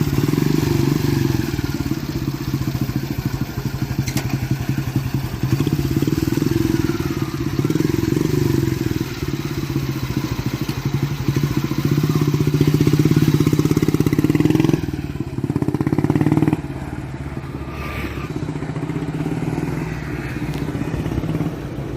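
A vintage Royal Enfield Model G single-cylinder motorcycle runs close by with a loud, steady thumping engine, holding a constant beat with small rev changes and a slight drop in level toward the end.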